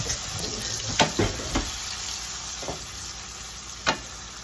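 Peas dropped into a hot frying pan for Sicilian eggs and peas, a steady sizzle with a few sharp scraping stirs and clatters spread through, close and fairly quiet, no talking.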